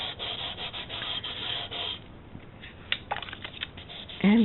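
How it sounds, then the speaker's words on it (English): Edges of oatmeal craft cardstock are burnished by hand, giving close, dry rubbing strokes in quick repeated passes that fade to lighter scrapes and taps, ending with a brief louder rub. "And just burnish those edges."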